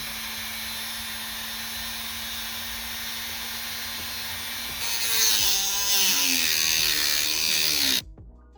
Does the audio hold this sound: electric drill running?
yes